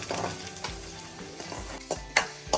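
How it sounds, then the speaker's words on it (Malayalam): Onions fry in a pan until brown for a Kerala squid roast, crackling steadily up close while a utensil scrapes and knocks against the pan in irregular strokes. "ഉള്ളി നല്ലപോലെ ഒന്ന് ബ്രൗൺ ആവട്ടെ."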